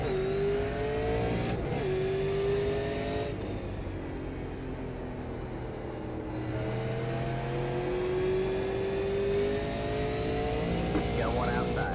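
Super Late Model race car engines at New Smyrna in iRacing, a steady, close engine drone with rising and falling pitch as the cars power through laps, continuous and fairly loud.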